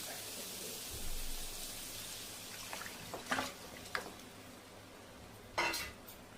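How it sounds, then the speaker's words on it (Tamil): Faint kitchen clatter: a few scraping, clinking hits of a utensil against a pan over a low background hiss, as cooked mutton is tipped in and stirred for mutton masala gravy. "இப்போ வேக வச்ச கறியை ஊற்றிடலாம்"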